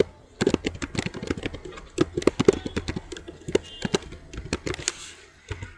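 Names being typed on a computer keyboard into an Excel sheet, a close run of crisp key clicks in irregular bursts with short pauses, clear and dry with no talking.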